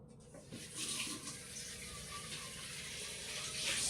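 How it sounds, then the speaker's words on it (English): Tap water runs steadily into a pan being rinsed in a kitchen sink, a continuous hissing splash that swells slightly toward the end. "I'm just going to rinse it down a little bit."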